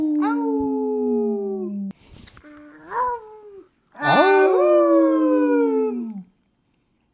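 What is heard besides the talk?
dog howling like a wolf pup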